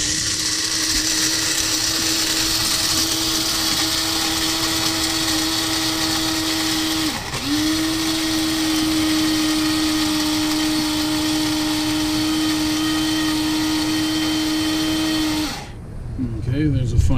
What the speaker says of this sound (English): Okay, coffee grinder.